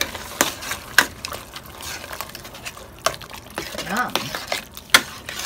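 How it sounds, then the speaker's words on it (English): Spoon stirring beef stroganoff with onions and mushrooms in a pan over medium heat, a steady scraping with several sharp clinks against the pan, close and moderately loud, with a brief spoken word. "we're going to stir it up"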